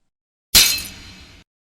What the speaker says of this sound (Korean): 접시가 깨지는 소리와 함께